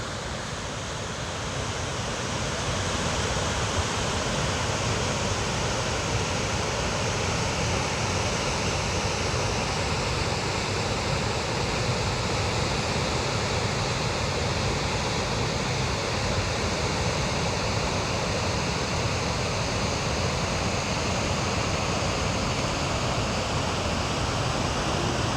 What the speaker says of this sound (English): And all this big waterfall thing.